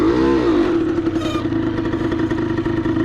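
A KTM LC2 125 motorcycle engine runs close by with a buzzing, rising and falling drone that stays loud and steady throughout, with no voices over it.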